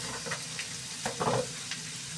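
Flat beans fry with green chili, salt and turmeric in a pan, giving a steady close sizzle broken by a few soft stirring scrapes and clinks, with no voice.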